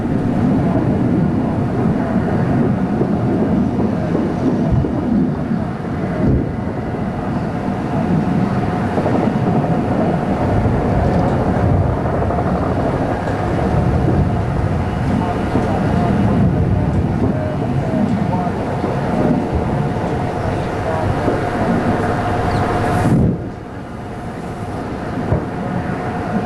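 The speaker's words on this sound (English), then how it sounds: "the sounds of combat somewhere in the city" Sustained rumble of distant combat across Baghdad during the Iraq War, a steady broad roar with low booming swells running for nearly half a minute before dropping off abruptly near the end.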